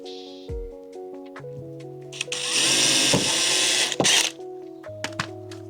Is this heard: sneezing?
no